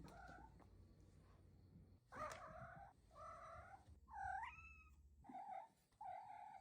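A cat chattering at birds, making a series of short chirping calls with rising trills, several bursts separated by brief pauses, close and fairly quiet.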